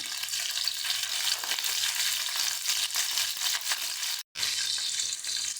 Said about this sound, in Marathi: अर्धा चमचा मोहरी टाकते अर्धा चमचा जिरं टाकते कढीपत्तीची पानं टाकते चांगलं गरम होऊ द्यायचं